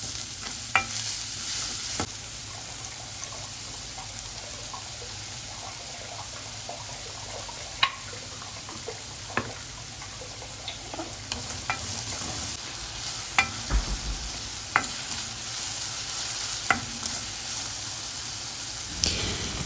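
Chopped onion sautéing in a pan for coconut egg curry, a steady close sizzle with intermittent scraping stirs and spatula taps throughout, no talking.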